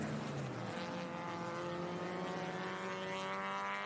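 A vintage race car at the Monterey Motorsport Reunion on WeatherTech Raceway Laguna Seca, its engine roaring loud and steady near the finish, the note sliding in pitch as it passes.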